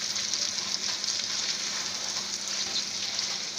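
Onions sizzle steadily in a pan for bhindi gosht, a bright continuous crackling hiss without pause, close and alone with no talk.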